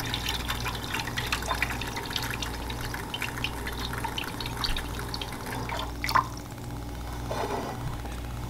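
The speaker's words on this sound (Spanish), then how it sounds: "Y aquí le voy a estar agregando agua para ponerlo a cocinar." Cold water is poured into a cooking pot for ground beef with green beans, giving a steady, close splashing and trickling over a low kitchen hum, with a few brief drips standing out.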